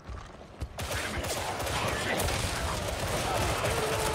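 Shotgun fire in Warhammer 40k Darktide: after a quiet opening, a sudden loud blast gives way to dense, continuous gunfire and combat noise with a voice talking over it.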